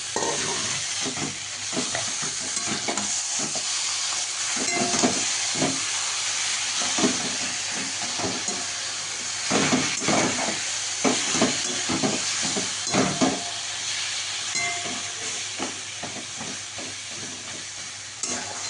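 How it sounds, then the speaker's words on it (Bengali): A spatula stirs roasted brinjal mash into spices in a hot pan, with a continuous sizzle and hiss broken by repeated scraping strokes at an irregular rhythm, close and fairly loud, no voices. "খুন্তিতে করে বেগুন পোড়াটাকে একটু মশলার সঙ্গে মাখিয়ে নিতে হবে"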